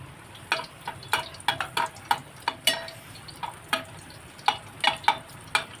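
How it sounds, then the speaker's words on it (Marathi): Crushed garlic frying in hot oil, a soft continuous sizzle punctuated by a dozen or so crisp spoon-stirring clicks at an uneven rhythm, close and fairly quiet, no speech. "यामध्ये मी लसूण जे घेतले ठेसून ते मी घालते तेलामध्ये"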